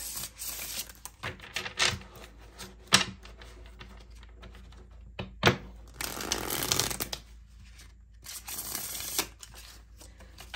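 Tarot cards being shuffled in repeated riffling bursts, crisp and close, with short pauses between rounds and no talking.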